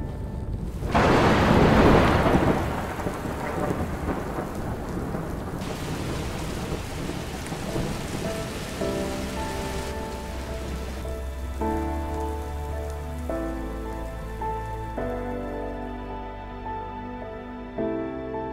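A Manitoba thunderstorm brings steady, heavy rain on surfaces and a loud rolling thunderclap early on, while the downpour continues and soft tonal music gradually rises underneath.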